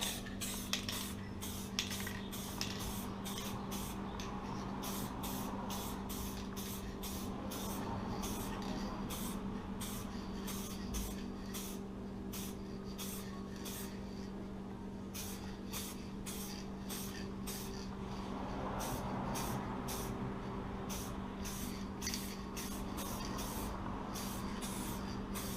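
A bike frame being spray painted, heard as a long continuous spray hiss over a steady low mechanical drone, probably a compressor, with rapid regular ticking pulses throughout and no talking.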